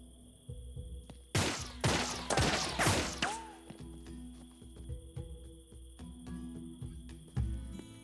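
Gunfire in the video game 3 Minutes to Midnight: a burst of four loud, sharp shots in quick succession, followed by a steady insect-like chirping drone and scattered clicks.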